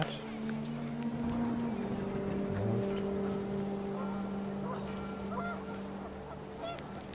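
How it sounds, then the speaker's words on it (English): Panicked geese honk in the video game What Remains of Edith Finch as the wind picks up, their calls faint over a continuous low drone, with no speech. "The wind picked up, and panicked geese appeared and quickly went."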